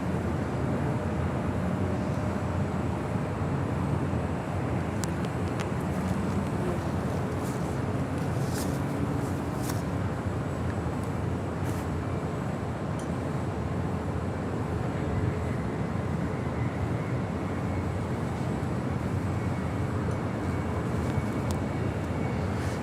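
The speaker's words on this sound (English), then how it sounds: "Southwest Airlines flight 1556 coming in from SFO on the 737 MAX 8." Southwest Airlines Boeing 737 MAX 8 arriving from SFO at Los Angeles International Airport, a continuous broad jet roar heard from a distance, steady and loud with no voices.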